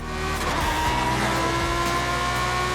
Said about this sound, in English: The roar of a car echoed loudly